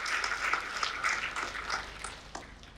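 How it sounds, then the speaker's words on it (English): Audience applause at a quiz competition award ceremony, a sustained wash of clapping from a crowd lasting the whole moment, moderately loud and steady before tapering slightly. "can I hear a resounding applause to the student in the 4th place."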